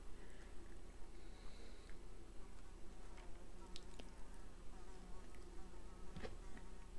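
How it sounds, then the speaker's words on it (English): A large, very buzzy housefly flies around indoors, its steady droning hum rising and falling continuously as it swoops close, with faint room noise and occasional small taps behind it. "I really wish that fly would go out the window. It's doing my head in. It keeps dive bombing me."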